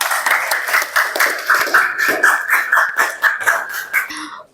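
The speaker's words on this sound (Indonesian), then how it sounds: "beri tepuk tangan untuk kelompok perak" A small group claps for a few seconds, irregular hand claps close by that fade out at the end.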